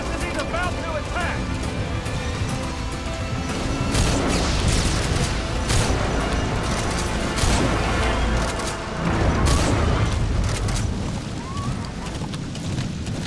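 Gunfire and explosive booms from the video game Metal Gear Solid V: The Phantom Pain sound as scattered sharp shots and heavy thuds over a steady rumbling background, with a voice talking across the scene.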